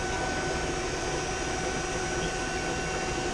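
A vacuum pump runs while evacuating a 60-ton HVAC package unit during leak repair, giving a steady, dense mechanical hum and whir without change throughout.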